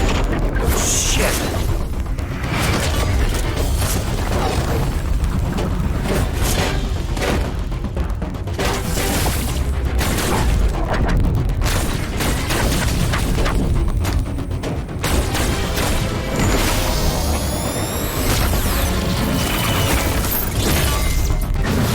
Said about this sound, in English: The super missiles did nothing!